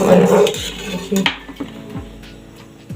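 A metal wok (kadai) is set down on a gas stove burner in a home kitchen while pasta is being made, giving a few sharp metallic clanks and clinks over a soft background.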